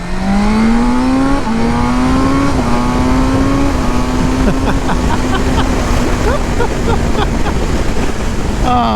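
A 2023 BMW M 1000 R motorcycle accelerates on a street, the engine climbing through gears in rising pulls with loud, close wind roar throughout.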